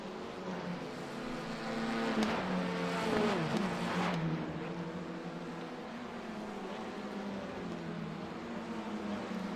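Touring race cars lap a circuit during a championship round, their engines droning loudly, with a pitch that climbs and falls as cars pass at middle distance and then fade to a steady hum.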